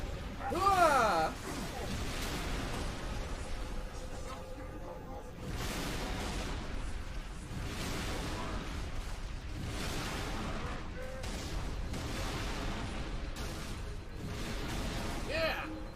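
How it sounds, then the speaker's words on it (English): Wraith mortar shells explode in Halo 3 on Tsavo Highway, producing repeated booming blasts and rumbling impacts amid game noise, with a player talking over the action. "Wraith mortars are so powerful."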